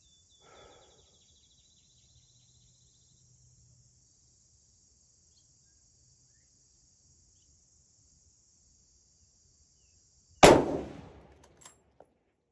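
Crickets chirp steadily in the background for about ten seconds, then one loud rifle shot from a hunting rig rings out at 500 yards. Its echo fades, followed by a faint distant report.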